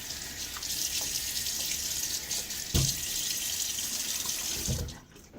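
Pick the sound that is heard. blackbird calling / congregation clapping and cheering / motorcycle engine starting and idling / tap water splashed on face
tap water splashed on face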